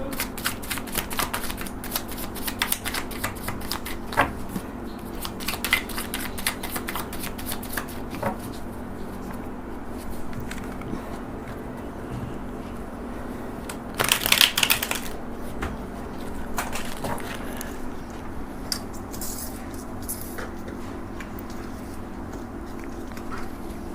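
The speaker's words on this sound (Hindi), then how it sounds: "शफल" A tarot deck is shuffled by hand in a quiet room during a Hindi reading, a long run of soft riffling flutters with brief louder bursts partway through, and no voices.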